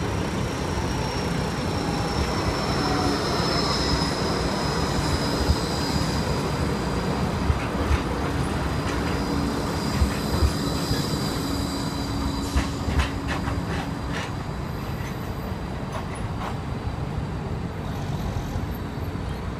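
A seven-module Bombardier Flexity 2 G-Link tram arrives at Broadbeach South, humming and rolling steadily with a few sharp clicks and rail clatter, close and fairly loud throughout.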